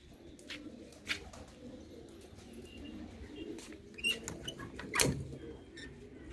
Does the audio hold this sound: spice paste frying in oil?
no